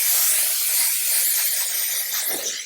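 A steam cleaner blasts a steady, loud hiss of steam to rinse a wheel brush outdoors in freezing 15°F weather, continuous and close with no pauses.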